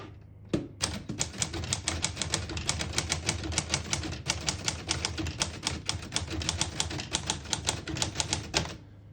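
A 1938 Corona Standard portable typewriter being typed on steadily at close range, with a fast, even run of crisp mechanical key strikes that lasts several seconds and then stops abruptly.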